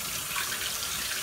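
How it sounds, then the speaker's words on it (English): Cold tap water runs steadily over rice being rinsed in a cup at a kitchen sink, a continuous close splashing hiss with no talk. "I'm going to rinse it off on the cold water, like so. And I run the water on it"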